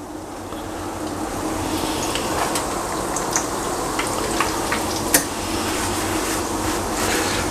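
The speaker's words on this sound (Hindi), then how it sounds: "इसको अच्छी फ्राई कर लूँगा।" Chicken Kiev pieces fry in hot oil over medium heat, a steady, even sizzle and crackle with occasional louder pops, heard alone at close range.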